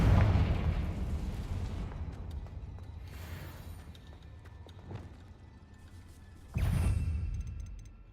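A Confringo blasting spell from a Harry Potter video game bursts with a deep boom, then fades into a rumbling tail, followed by a second explosive burst later. No one speaks.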